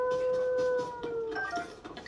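A wolf howls in Zelda: Tears of the Kingdom, a few sustained tonal wails rising and falling, fairly close and loud, over game background noise.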